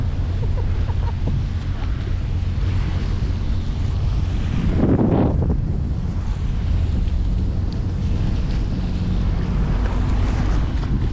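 Loud wind buffets the microphone over the rumble of a boat moving on water, with a brief surge of splashing midway.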